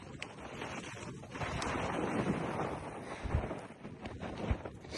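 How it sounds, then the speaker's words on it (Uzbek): Wind blows across open desert steppe in Kazakhstan, a steady, close rumbling rush buffeting the microphone with stronger gusts, and no one talks. "Shamol to'xtab qolar."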